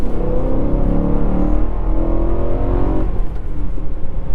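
A BMW E92 M3's V8 engine revs loudly and close, its throaty tone rising and falling over a few seconds before settling into a rougher idle.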